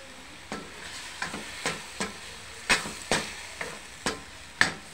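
Cubes drop into a frying pan with a series of scattered, knocking clacks over a faint, steady sizzle, close by and without any voices.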